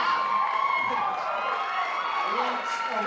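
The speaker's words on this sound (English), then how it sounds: "great crowd. You guys are really loud." A loud pageant audience at the 2018 Mrs. Colorado Pageant cheers and shouts continuously, a dense wash of voices with scattered whoops throughout.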